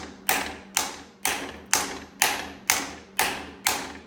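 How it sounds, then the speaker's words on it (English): Wheel bearing being tapped gently into the rear hub of a 2008 Polaris RZR, eight evenly spaced metallic taps about half a second apart, each with a short ringing decay, close and alone. "Just kind of tap from one side to the next."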